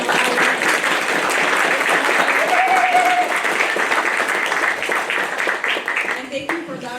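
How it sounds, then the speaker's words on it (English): Audience at an indoor convening gathering breaking into sustained applause, dense and loud clapping from many hands that holds steady, then thins and fades toward the end. "Can we please give them all a round of applause?"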